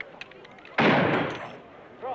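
A shotgun shot in an outdoor shooting contest, a single sharp loud blast that rings out and decays over about a second, with faint background noise before it.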